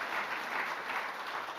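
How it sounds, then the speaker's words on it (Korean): A church congregation claps together, a soft, fairly distant patter of applause filling the room for a moment at low volume. "우리 박수 한번 합시다."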